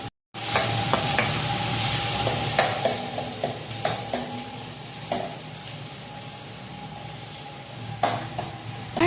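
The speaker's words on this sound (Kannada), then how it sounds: "ಫುಲ್ ಗೋಲ್ಡನ್ ಬ್ರೌನ್ ಬರೋ ತನಕ ಇದನ್ನು ಫ್ರೈ ಮಾಡ್ಕೊಳ್ಳೋಣ." Momos fry in a pan until golden brown, giving a steady close sizzle with intermittent scrapes and light utensil clinks, no voices.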